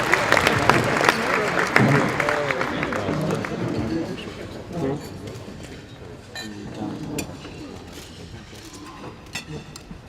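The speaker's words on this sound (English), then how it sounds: "please welcome Ambassador Liu to the stage with a round of applause." Event audience applauding as an ambassador is welcomed to the stage at an anniversary gathering, a dense wash of clapping that starts loud and gradually thins out, with some crowd murmur mixed in.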